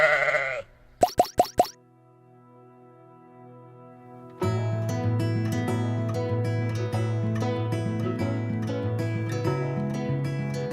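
Sheep bleat on a Turkish sheep farm, a few sharp calls up front, then a quiet stretch before a dense, overlapping chorus of bleating from many animals continues steadily.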